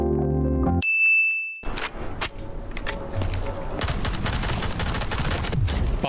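A headshot hit in the shooter game Delta Force: a sharp ding followed by a loud burst of gunfire, with repeated shots and rattling impacts continuing densely to the end.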